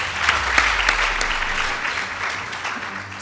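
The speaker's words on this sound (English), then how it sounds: "A better round of applause." Sustained applause after the judges announce the winners of a quarterfinal school debate, a steady wash of clapping with a few sharper claps standing out, gradually easing.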